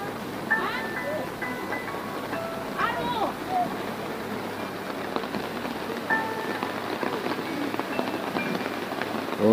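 Rain falls steadily outside a house under construction, a soft continuous patter on surfaces at moderate distance, with people talking intermittently over it.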